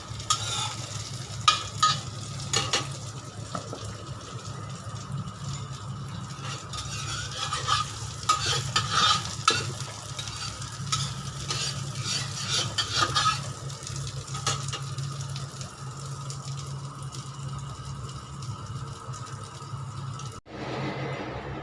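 Eggplant sizzles and fries in a pan with a steady crackling hiss, broken by scraping and stirring as the slices are turned, continuing unbroken for about twenty seconds before cutting off.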